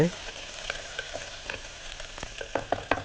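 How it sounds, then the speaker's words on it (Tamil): Onion sautés in a pan with a low continuous sizzle, broken by light clicks and taps of a stirring spoon that grow more frequent toward the end, close and fairly quiet. "போட்டு நல்லா வதக்கலாம். நல்லா வதக்கிட்டு"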